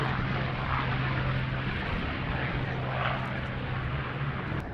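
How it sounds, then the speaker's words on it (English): A Boeing B-17 Flying Fortress flies at an airshow in Duxford, its piston engines and propellers making a steady, loud, rumbling drone with a low hum that holds throughout. "Boeing B-17 flying fortress, Sally B."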